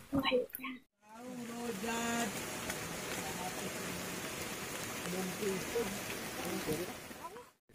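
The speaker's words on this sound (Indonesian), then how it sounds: "hujan pula hujan" Rain falls outdoors as a steady, soft patter, broken by short stretches of voices at the start and end and by occasional other sounds mixed in.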